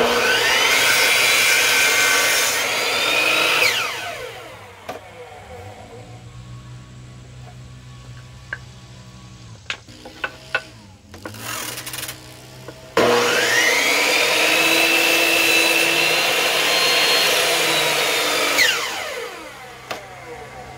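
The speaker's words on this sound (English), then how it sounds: "then you can safely cut your piece of wood" A powered miter saw spins up with a loud rising whine and bites through a piece of wood in two separate cuts, winding down between them with a few clicks and knocks, close and with no speech.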